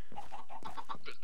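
Chickens in the Minecraft video game cluck in a quick run of short, bright calls, loud and close, with no talk over them.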